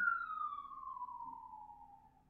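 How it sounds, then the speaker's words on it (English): A passing emergency vehicle siren in a single long falling wail that slowly sinks in pitch and fades as it moves away, heard alone and moderately distant. "siren going by"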